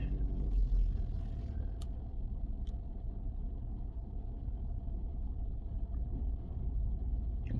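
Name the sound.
2025 Lexus GX 550 engine during a three-point turn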